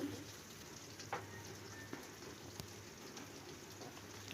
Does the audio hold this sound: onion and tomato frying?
yes